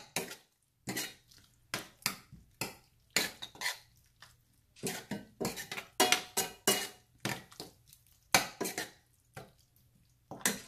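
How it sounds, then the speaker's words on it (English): A spoon stirring squid vindaloo in a pan over a medium flame, giving a steady series of sharp scraping clinks in an irregular rhythm, close and fairly quiet, with no talking. "Keep the flame in medium and give a good stir."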